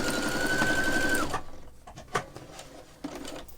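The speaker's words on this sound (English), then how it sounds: "I'll just sew it together and manipulate it as I go" A sewing machine stitches straps of curtain fabric for a bag, whirring in a fast steady run for over a second before stopping, then a few soft clicks and fabric handling noises as the work is adjusted.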